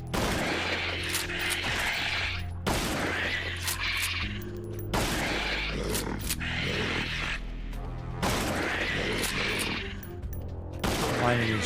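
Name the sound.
gunshots in a video game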